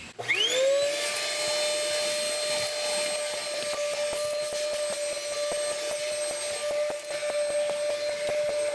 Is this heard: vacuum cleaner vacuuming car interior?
yes